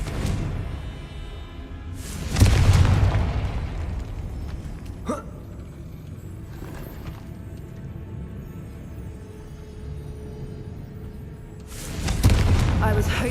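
Two heavy booms from the Confringo explosion spell in a Harry Potter video game burst out near the start and near the end, with a quieter stretch of low game ambience between them.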